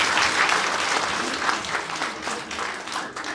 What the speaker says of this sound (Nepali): स्याबास भनेर ताली बजाउनु।